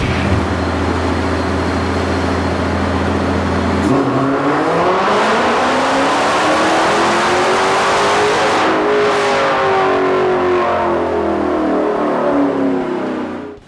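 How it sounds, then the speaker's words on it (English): Loud, close roar of a Dodge Challenger 392 Hemi V8 strapped to a dyno, idling with a deep rumble before climbing in one long sustained pull through the revs, then holding high. "Now the Challenger is strapped down, hooked up, and ready to baseline."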